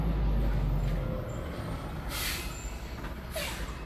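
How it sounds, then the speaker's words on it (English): An empty dump truck rumbles past close by, heavy low-end engine noise strongest at first and easing off, with short bursts of air hiss from the brakes. "Empty dump truck, people."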